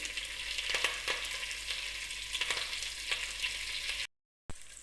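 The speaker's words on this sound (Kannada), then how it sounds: "ನಂತರ ಇದಕ್ಕೆ ಹಸಿಮೆಣಸಿಕಾಯಿ ಮತ್ತು ಕರಿಬೇವಿನ ಸೊಪ್ಪು ಹಾಕ್ತಾಯಿದ್ದೀನಿ" Green chillies and curry leaves frying in hot oil, a dense bright crackling sizzle with a few stirring scrapes, close and steady, no talking.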